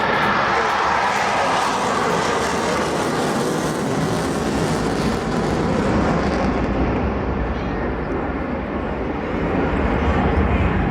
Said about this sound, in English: you'll hear the engine stage, start to throttle up and go straight into a loop